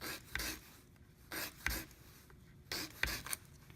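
Small model car axles being sanded at the ends, giving short scratchy rasping strokes in three separate clusters with quiet gaps between them, close and fairly faint.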